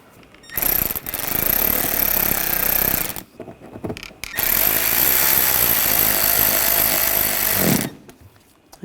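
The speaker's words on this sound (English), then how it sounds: "And put these screws in. And snug those down." A power tool drives screws into the headlight trim of a 2013-2022 Buick Encore. It runs in two loud, sustained bursts close by, with a brief gap between them and no voices.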